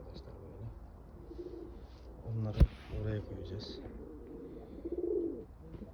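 Breeding pigeons in a coop coo and flutter after being startled, a sharp burst of wingbeats midway amid soft cooing while someone talks nearby.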